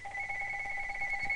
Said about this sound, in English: my phone's ringing, so I gotta go